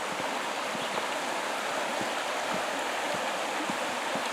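The Eno River flowing, a steady, even rush of water filling the whole stretch without pause, fairly close and with no one speaking.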